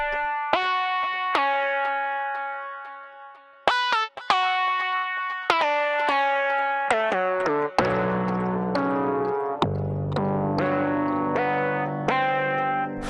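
An electric instrument plays notes and chords through a delay effect, each note echoing and trailing off, with sustained repeating tones throughout.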